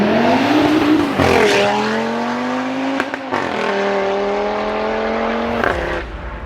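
An Audi RS3 Sportback with a five-cylinder engine revs and accelerates through several gear changes, the loud rising engine note breaking at each shift, with no talking.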